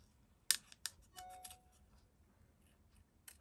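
Scissors cut a paper butterfly shape, giving a few faint, close snips and rustles with quiet gaps between them.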